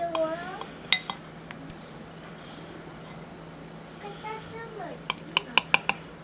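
Knife and fork cutting a thawed vanilla hotcake on a plate, several sharp clinks and taps at the start and a quick run near the end, with voices talking between them.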